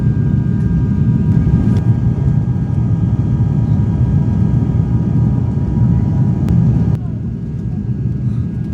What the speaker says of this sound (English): Now the pilot has really put the brakes on.